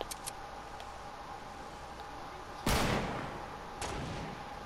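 Gunfire in the video game Fortnite: a single loud, sharp shot in the middle, followed by a fainter crack shortly after, over a quiet in-game background with a few faint clicks.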